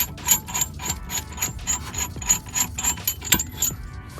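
A brake caliper piston tool is unscrewed from the rear brake of a Volkswagen Jetta during a pad replacement, giving a steady series of close, rhythmic ratcheting clicks and scraping metal turns.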